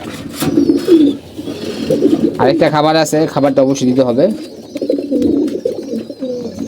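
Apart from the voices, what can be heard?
pigeons cooing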